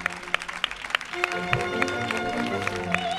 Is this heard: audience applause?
yes